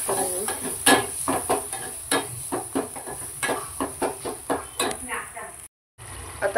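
Masala stirred in a sizzling pan, with a spoon scraping the metal in repeated strokes over a constant hiss, a brief pause near the end, and a voice speaking faintly at times.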